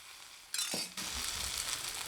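Rava dosa batter hits a hot griddle with a sudden bright hiss after a quiet moment, a brief splash, then a sustained loud sizzle that carries on alone.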